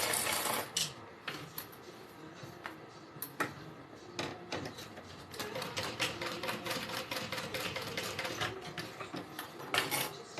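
A sewing machine top-stitches a backpack zipper in bursts of rapid mechanical clatter, stopping and starting several times, close and moderately loud with no talk.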